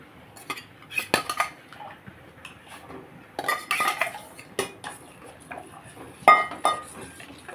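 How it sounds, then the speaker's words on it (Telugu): A spoon stirs ragi porridge (sodi java) in a metal pot, giving scattered close clinks and scrapes in irregular bursts with quiet pauses between. "సోడి జావ కలుపుతున్నాను."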